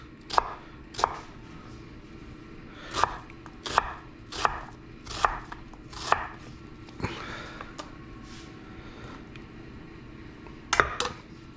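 A knife cuts onions into big chunks on a board, with about a dozen crisp, close chops in irregular bursts separated by short pauses, and no talk.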